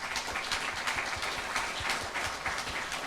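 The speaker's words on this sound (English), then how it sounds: "Can we have a round of applause for our lenders?" A conference audience at a lending event gives a short, steady round of applause, moderately distant, with dense clapping lasting a few seconds and no talk over it.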